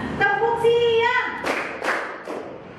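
A class claps a rhythm pattern: a voice speaks first, then three or four quick, close group claps follow in a short rhythmic run.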